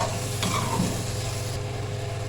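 Turnip, chicken and tomatoes fry in a pan, a steady close sizzle with a brief stir or scrape partway through, no talk.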